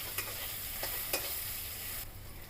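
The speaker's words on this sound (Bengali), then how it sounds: "দেওয়ার পর ভালো করে আলুগুলো ফ্রাই করে নিব।" Potatoes fry with turmeric in a lightly oiled pan, giving a steady close sizzle broken by a few sharp spatula scrapes and taps as they are turned, with no talk.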